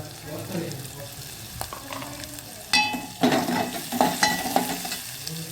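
Onions with turmeric sauté in a pan, frying sizzle under clattering stirs that grow louder and busier halfway through, with no voices.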